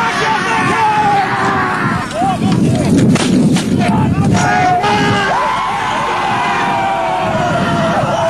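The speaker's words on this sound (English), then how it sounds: "The Highlanders discharged, threw down their muskets, and drawing their broadswords," A musket volley rings out at a 1995 re-enactment of the Battle of Prestonpans: loud, ragged bursts of gunfire around the middle, with crowd shouting and whooping throughout.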